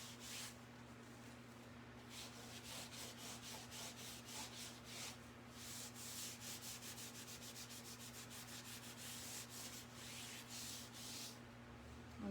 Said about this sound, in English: I rub those back, whether I'm using my baby wipe or whether I'm using my sandpaper